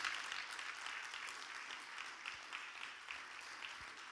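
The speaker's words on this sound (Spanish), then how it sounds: "¿Cuántos pueden dar un fuerte aplauso a nuestro Dios?" A church congregation claps for God during a sermon, a fairly quiet, even wash of applause from many hands lasting a few seconds.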